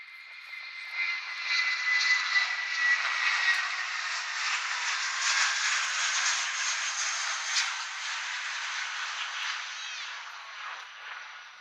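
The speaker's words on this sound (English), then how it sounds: "next up is the British Airways Airbus A320-200 going towards London Heathrow" A British Airways Airbus A320-200 jet departing Manchester Airport toward London Heathrow, a steady broad jet roar building and holding loud and fairly close for the whole stretch, with no voices.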